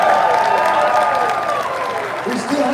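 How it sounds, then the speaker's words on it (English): An audience applauds athletes at a Special Olympics 50th anniversary celebration, steady broad applause from a large crowd under a voice and a sustained musical tone that fades near the end. "how about a big round of applause for our athletes and the athlete host tonight?"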